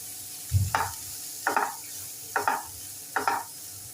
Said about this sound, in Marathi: थोडे जिरे घालूया थोडंसं ही ते घालूया आता हे कांदा छान परतून घेऊया